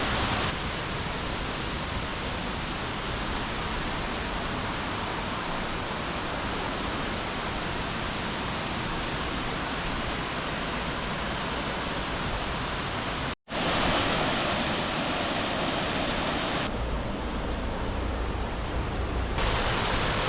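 Waterfall at the Rastoke mill village in Croatia, a dense, steady rushing roar of falling water that fills the whole clip at close range, with one brief cut partway through.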